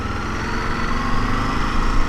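A 2022 Ducati DesertX motorcycle engine runs steadily at close range, a continuous droning rumble with a slight rise in intensity toward the end.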